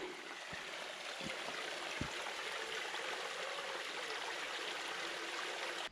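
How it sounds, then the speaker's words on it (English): Barrow Beck, a woodland stream in the Lake District near Lodore Falls, rushes and trickles steadily as a continuous soft wash of running water, fairly faint and with no one talking. "Just love that sound of running water."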